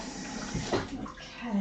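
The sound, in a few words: rinsing a chopping board under running water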